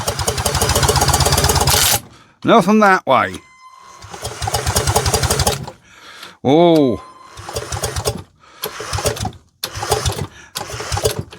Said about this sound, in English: Let's see if my drill has got enough torque to turn this.